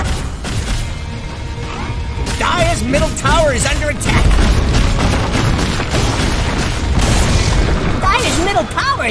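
Dota 2 tower under attack and collapsing: dense, loud booming impacts and crashes in a busy game mix, with rising tonal effects sweeping through and game voices talking throughout.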